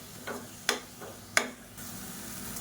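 Blended tomato paste sautéing in oil in a pan makes a low, steady hiss, broken by two sharp clicks of a utensil against the pan and a few softer taps.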